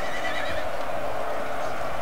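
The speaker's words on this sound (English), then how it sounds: "Oh, you can see a couple of my horses going down there." Cavalry horses fighting in a Napoleon: Total War battle between Russia and Sweden: a dense, continuous wash of neighing and hoof noise blended with the steady din of the melee.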